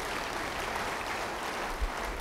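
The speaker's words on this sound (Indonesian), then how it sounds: "beri tepuk tangan pada Tuhan" A church congregation applauds during a worship service, a thin, steady patter of clapping at moderate distance with a soft low thud near the end.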